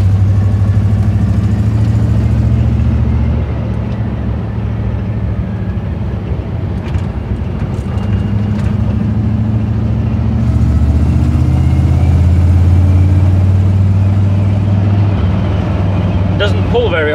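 A 145-horsepower 305 V8 with headers and a big Edelbrock carburetor runs steadily with a loud, close, deep rumble that rises slightly partway through, and no talk over it.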